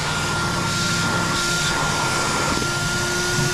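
An EGO cordless vacuum runs with steady suction, a loud continuous whirring roar with a high whine that holds level throughout, close by and without talk.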